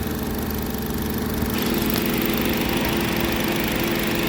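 A 2014 Honda CR-V EX-L 2.4-liter inline-four idles steadily up close in the open engine bay, a continuous even drone with a faint rise partway through.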